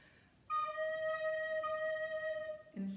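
Soprano recorder playing a low note with the finger holes not fully covered, giving a sustained reedy tone rich in overtones that starts abruptly and holds for over two seconds before a short squeak at the end.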